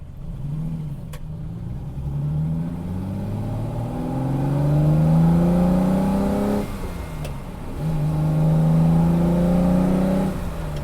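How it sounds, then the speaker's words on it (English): A Ferrari 330 GTC engine revs up through the gears, rising in pitch, dropping at a shift, then climbing again as the car accelerates steadily. "as I'm driving this car"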